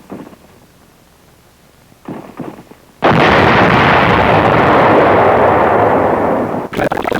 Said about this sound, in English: Resulting explosions close all but the biggest caves